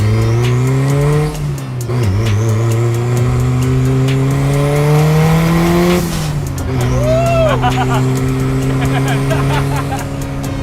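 A hot rod's Honda S2000 VTEC engine revving hard and loud, pitch climbing in long pulls and dropping between them, with brief lighter sounds over the roar.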